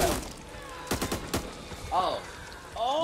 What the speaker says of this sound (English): Load the howitzer with ammo.